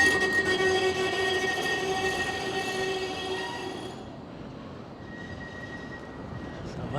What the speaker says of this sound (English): Tram's on a bit of a go slow.